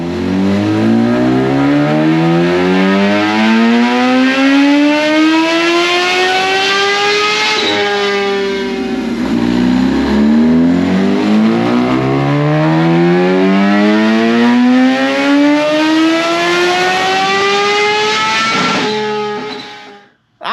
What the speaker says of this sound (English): we made that last pull there